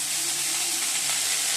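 Potatoes, cauliflower and onion stalks fry in a pan with a steady, close hiss of sizzling oil that runs unbroken, with no voices over it.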